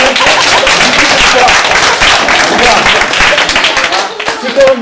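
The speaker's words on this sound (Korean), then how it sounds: "박수 한번" Loud, close audience applause with dense clapping that continues steadily, swelling and thinning slightly toward the end, with crowd voices mixed in.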